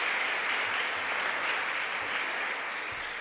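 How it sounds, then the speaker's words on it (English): Conference workshop participants give a sustained round of applause, a dense, even wash of many hands clapping in a hall, steady throughout at moderate volume with no voices over it. "So, a round of applause."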